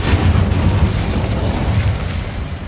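Incendio fire spell blasting in Hogwarts Legacy during a fight against Ranrock's loyalists, a loud, sustained low rumbling burst with a dense fiery roar that slowly fades over a few seconds.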